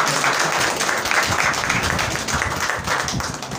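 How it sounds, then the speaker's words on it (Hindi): A worship congregation gives loud, sustained applause, a thick, continuous roar of many hands clapping at close range with no break, and a few voices mixed faintly underneath. "हम जोरदार तालियों से प्रभु की महिमा करें"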